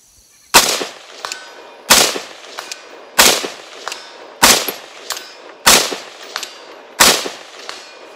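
A rifle with MEPRO FRBS iron sights fired rapidly at a 200-yard target: six sharp, loud cracks at an even pace about a second and a quarter apart, each trailed by a brief ringing echo, with no talking.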